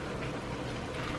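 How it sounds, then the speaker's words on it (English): Dry noodles being poured one box at a time into a pot of boiling water on a home stove, giving a steady bubbling, watery rush that holds at a moderate level throughout without voices. "pour the noodles in without the stool so that your face isn't by the steam"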